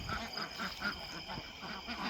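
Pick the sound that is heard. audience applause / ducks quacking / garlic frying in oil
ducks quacking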